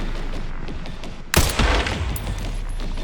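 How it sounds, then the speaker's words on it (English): Mortar fire in Resident Evil Requiem: a sudden heavy blast cuts through quiet ambience, followed by a rumbling, crackling burst of explosive fire that lingers and fades. "Mortar."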